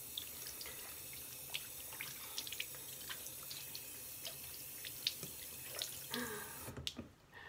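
Tap water runs quietly into a sink while hands are rinsed, a soft continuous trickle with scattered splashes and drips, ending in a brief clatter.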